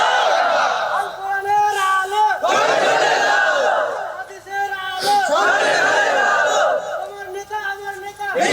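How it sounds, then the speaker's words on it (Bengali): A crowd of men at a religious gathering shouts takbir together in loud, repeated chanted bursts that rise and fall in unison, close and full-throated. "কে পারেন ভালো করে একজন তাকবীর দেন।"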